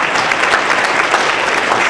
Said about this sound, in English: Yes, give them a applause.